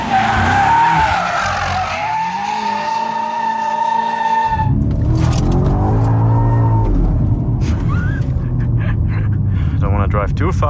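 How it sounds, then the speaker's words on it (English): Tires of a BMW M5 G90 squeal loudly and continuously while it drifts on tight roads. A high wavering screech first gives way to a lower, rough skid under a revving engine, and a voice talks over it. "I hope you hear more than just tire squealing noise"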